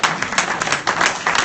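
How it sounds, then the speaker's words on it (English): An audience at a Bayside Hills civic association meeting claps in a brief burst of applause. The hand claps are dense and close, with no talking over them. "I would like to ask for everybody to give our guests a really big round of applause."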